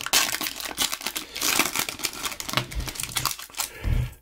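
Baseball card packs being torn open, with close, busy crinkling and ripping of foil wrappers in rapid irregular bursts, no voices.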